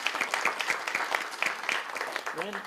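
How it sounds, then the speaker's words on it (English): Applause breaks out at a school board meeting, a steady crowd of hands clapping in a room with voices mixed in. "So one more round of applause for our brave students who are presenting last week."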